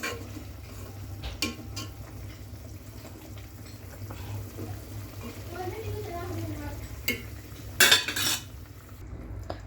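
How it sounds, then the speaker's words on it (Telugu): Okra curry simmers in a pan, with a soft bubbling hiss, a few metal utensil clinks and scrapes, and a louder clatter near the end, while a voice speaks quietly in the background. "ఉడుకుతుంది చూడండి బెండకాయ కూర బాగా."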